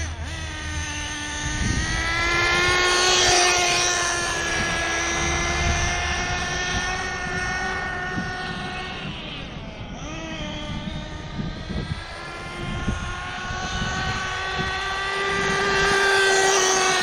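HoBao Hyper VS2 nitro RC engine running rich on the high speed needle, a loud, buzzing two-stroke whine holding steady with small rises and dips in pitch, close and continuous throughout.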